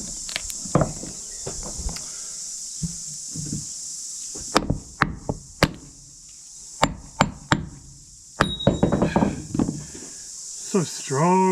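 A hammer taps on glass during restoration of a 76-year-old sunken sailboat in New Zealand, giving a series of sharp, separate knocks at an uneven pace over a faint steady hiss, with brief handling noises between them.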